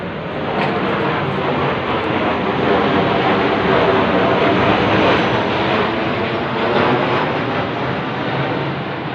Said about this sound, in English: Those planes are still patrolling right over the roof at this very late time.